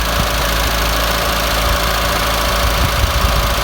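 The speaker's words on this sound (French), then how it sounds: "Je vais ralentir un peu le moteur." A Citroën BX petrol or diesel engine idles steadily with a low rumble and faint knock, its revs easing down slightly, close and continuous with no talk.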